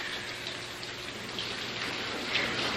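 Steady rain falling outside a house at night, a continuous even hiss that holds at a moderate level throughout with no voices.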